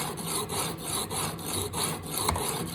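Steady back-and-forth scraping of a knife blade across a coarse 40 to 60 grit stone on a TSPROF guided sharpener, repeated rhythmic strokes close up with a brief sharper scrape near the end.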